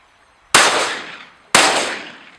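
Two loud, close shotgun blasts fired at pigeons during spring decoying, about a second apart, each sharp crack trailing off into an outdoor echo.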